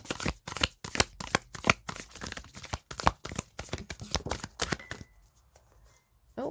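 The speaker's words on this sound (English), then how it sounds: "I'm going to shuffle again and see if anything else wants to come out." A deck of tarot cards is shuffled by hand in quick, repeated riffles and flicks, close and crisp, with a faint voice in places before the shuffling stops and near silence follows.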